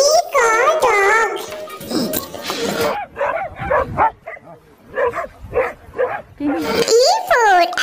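A dog barks in a quick series of short, sharp yaps, with a voice speaking before and after.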